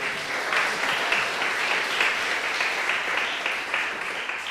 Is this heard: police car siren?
no